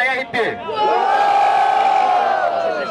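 Loud crowd cheering and shouting at a Brazilian freestyle rap battle in São Gonçalo, a sustained roar of many voices swelling after a brief shout at the start.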